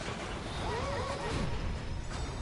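Horse neighing in Dark Souls 2, a single whinny with a rising and falling pitch, sounding close and loud over a steady background hum of game ambience.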